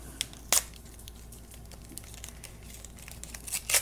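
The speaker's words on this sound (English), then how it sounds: "you need to remember to get all the plastic and cardboard off" Plastic and cardboard packaging crinkles and tears as it comes off a toy, with sharp crackles near the start and end and quieter rustling between.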